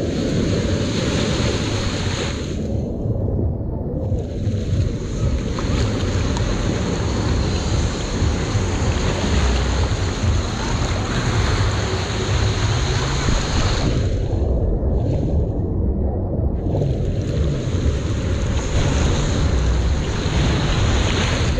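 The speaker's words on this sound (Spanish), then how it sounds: "la playa fantástica," Ocean waves roll continuously onto the beach at Playa del Carmen, a loud, steady wash of surf with heavy wind buffeting the microphone throughout and no talking.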